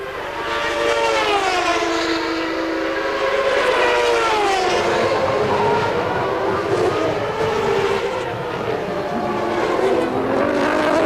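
A high-revving 1993 Formula One car engine screams continuously at the Canadian Grand Prix, pitch rising and falling through the gears up to about 13,000 rpm, loud and sustained with a commentator's voice underneath.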